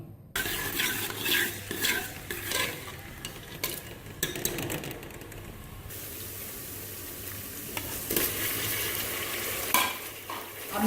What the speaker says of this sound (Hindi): अब मैंने इसमें गोश्त डाल दिया है। अब मैं इसको भूनने लगी।